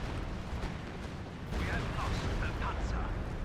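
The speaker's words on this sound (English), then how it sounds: "And actually good artillery kills the Brumbar." Artillery shells in the World War II strategy game Company of Heroes 2, on the Hill 400 map, boom and rumble as a dense, steady barrage that swells louder midway, with battle noise all around.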